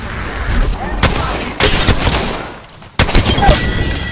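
Bursts of automatic gunfire from the Apex Legends battle royale game, loud and close, in several sharp volleys with brief gaps, with voices talking over the shooting.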